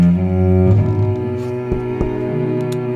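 Instrumental title sequence music track from the Epidemic Sound library, with sustained tonal layers, a shift in texture near the start and soft percussive hits, playing steadily with no talk.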